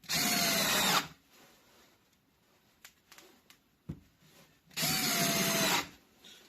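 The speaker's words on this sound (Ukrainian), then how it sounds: "ще я використовую шуруповерт" A cordless screwdriver drives screws into wooden boards for a cat house, two loud close whirring bursts separated by quiet clicks and knocks of handling.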